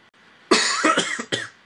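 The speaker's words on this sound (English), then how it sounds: "I've been coughing for a while." A close, harsh coughing fit of several quick raspy coughs in a row, loud and alone, ending after about a second.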